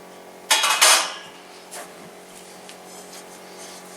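An 8-inch deep-sided pan is handled in a kitchen, giving a couple of close clattering metallic knocks and scrapes near the start, followed by a quieter stretch with faint small taps.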